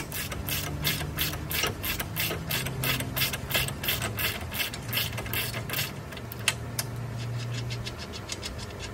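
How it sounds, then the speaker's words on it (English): A ratchet wrench with a 24 mm socket loosens the nut on a Dodge Ram 1500 4x4 lower control arm while the stud is held with an 11 mm wrench, giving rapid, even clicking in steady runs with brief pauses. "Holding the stud with an 11 millimeter and loosening the nut with a 24,"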